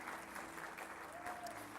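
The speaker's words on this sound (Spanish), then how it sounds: "Dele un aplauso al Rey de Reyes y Señor de Señores" Applause rises from a church congregation during a Spanish-language service, a steady wash of clapping heard faintly and at a distance, with a voice briefly audible over it.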